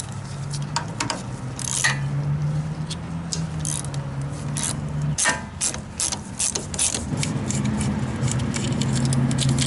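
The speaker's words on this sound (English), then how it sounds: "So I just hold the nut with a box end wrench and rotate the bolt below." A box end wrench ratcheting on a 15mm sway bar end link bolt on a 2014-or-later Chevy Silverado or GMC Sierra, close up, with repeated clicking bursts and metallic clatter over a low background hum.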